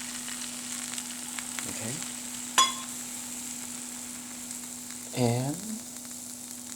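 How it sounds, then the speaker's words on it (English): Red wine is poured into a hot pan to deglaze it for a beef stew, giving a steady sizzle with a sharp clink and a second burst of frying, while a person says a word or two. "trying to deglaze the pan to get all the yummy flavor off the pan"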